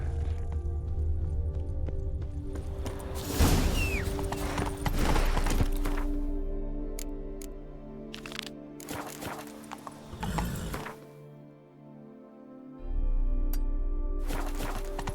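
Roach the horse gallops in The Witcher 3, rhythmic hoofbeats clattering over a low rumbling game soundscape, with mechanical clanks and a steady background drone throughout.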